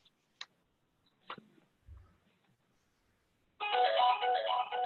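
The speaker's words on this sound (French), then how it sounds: "Il y a un téléphone qui sonne." A telephone rings with a buzzy, warbling electronic tone that starts abruptly after a few quiet clicks and taps and keeps going loud and steady to the end.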